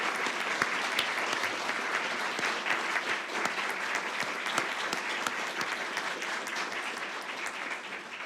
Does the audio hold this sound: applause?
yes